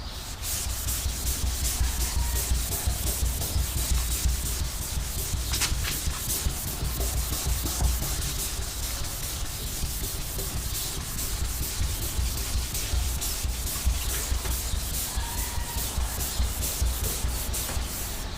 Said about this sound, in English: you gotta sand it down with the Scotch-Brite